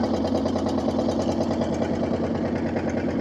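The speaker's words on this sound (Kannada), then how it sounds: "ಅಲ್ಲಿ ನೋಡಿ ಇನ್ನೊಂದು ಬೋಟ್ ಬರ್ತಾ ಇದೆ" A boat engine drones steadily on the Sharavati backwaters near Honnavara, a close, continuous mid-pitched hum with a faint rhythmic knock and no break.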